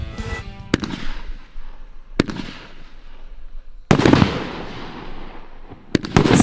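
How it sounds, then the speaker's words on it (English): Hero, a 20-shot consumer fireworks cake for the Fourth of July, fires loud sharp bursts at uneven intervals, each trailing off in crackle and hiss, with a denser cluster of blasts near the end. "a 20-shot cake that creates a breathtaking display of vibrant colors and out-of-this-world effects like gold wave palms and white and green strobes"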